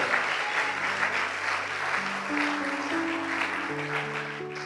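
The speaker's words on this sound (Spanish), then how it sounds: "Denle ese aplauso fuerte a nuestro Padre Celestial" A church congregation breaks into sustained applause during a sermon, a continuous wash of clapping with held keyboard notes ringing underneath.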